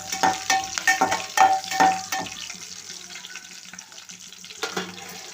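Curry leaves stirred in a hot frying pan for an egg gravy, spoon scraping in several quick strokes over a steady sizzle, with a faint tap-water rush near the end.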